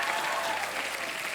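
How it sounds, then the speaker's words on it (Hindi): A studio audience on a Hindi comedy talk show claps together in steady, dense applause that holds at full strength throughout. "एक बार ताली बजाएं"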